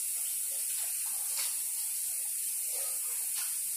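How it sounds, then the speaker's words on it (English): A bowl is washed under a running kitchen tap, with steady, close water hiss and spray throughout and soft splashes shifting as the bowl is moved, and nobody talks. "Bowl washed because I'm going to reuse this bowl."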